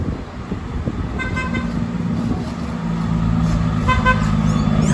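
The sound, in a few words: bus horn honking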